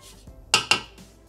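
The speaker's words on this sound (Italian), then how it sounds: "Riuniamo sul fondo del boccale con la spatola." A spatula scrapes twice down the inside of a Thermomix TM6 mixing bowl, gathering cocoa and ricotta cake batter at the bottom, two short close scraping strokes in a quiet kitchen.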